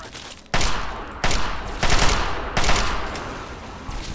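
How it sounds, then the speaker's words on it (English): Gunshots from a Steyr rifle in the video game Fallout 3: four loud, sharp reports at roughly even intervals, each trailing into a reverberant decay, with no talking. "Let's see if I can get a sneak attack critical with the Steyr."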